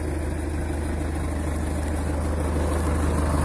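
An MTZ 892.2 tractor with a PS-3.1 plough attached sits idling, its diesel engine giving a loud, steady, close rumble with an even low throb throughout.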